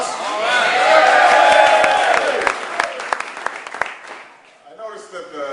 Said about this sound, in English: I noticed that the Boston crowd's a little rambunctious tonight